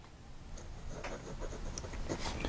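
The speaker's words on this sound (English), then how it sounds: "As you can probably hear, the finer nib on this paper is not as nice as the broad nib" A Delta Touareg fountain pen with a fine nib, inked with Noodler's Legal Lapis, scratches steadily across the paper of a bargain leather journal. The strokes come close up as a continuous rough, papery rub with small ticking catches.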